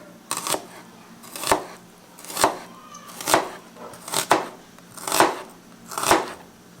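A knife chops through onion on a cutting board in a home kitchen, seven sharp, evenly spaced strokes about a second apart, close and crisp, with no talking.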